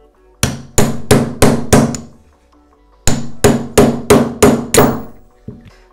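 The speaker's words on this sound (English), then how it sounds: "Now, using again these two pieces of wood, we can hammer out the bearings." Bearings are hammered out of the eccentric of a Vittorazi Moster Plus paramotor engine through wooden blocks: two loud, close bursts of five evenly spaced blows each, then a faint knock.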